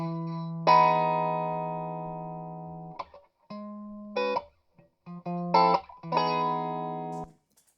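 Electric guitar amp captured through a soup can used as a microphone, playing sustained chords and short stabs with a thin, lo-fi, band-limited tone; several separate strums ringing out then cut off, no talking.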